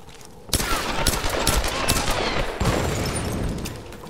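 Gunfire in Tomb Raider (2013): after a brief quiet start, rapid bursts of shots and automatic fire ring out loud and close, continuing in dense volleys, with no talk over them.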